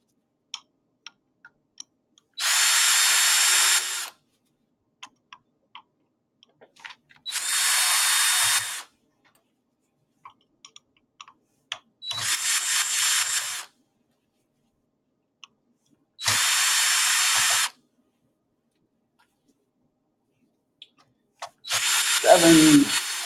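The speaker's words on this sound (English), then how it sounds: "We're going to remove these screws." A power drill backs screws out of a Bosch SHHD1619DG dishwasher in five separate loud whirring bursts of a second or two each, with quiet clicks and handling noises between them.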